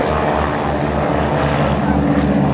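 Propeller aerobatic airplane tumbling at an outdoor air show, a loud, steady droning engine roar with a pulsing low throb, continuous and close throughout.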